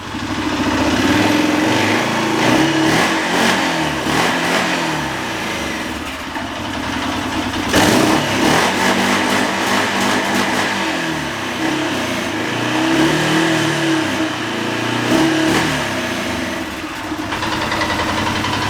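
An engine with a newly repaired fuel injector is blipped on the throttle several times, each rev rising and falling from a steady idle, loud and close.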